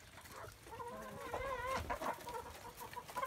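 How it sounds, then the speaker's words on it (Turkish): Hens and roosters cluck and squawk in a busy, overlapping chorus in the early morning, fairly close and steady throughout, with a louder burst of calls in the middle. "Fazla horoz var."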